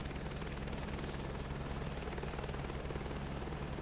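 An Airbus helicopter in Microsoft Flight Simulator 2024 drones with a steady, loud rotor and turbine hum and a fast rhythmic blade thump, continuous and unbroken with no voices over it.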